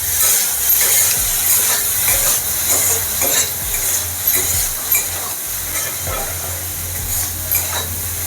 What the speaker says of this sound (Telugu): పసుపు వేసుకొని శుభ్రంగా కలిసేటట్టు కలుపుకోవాలి.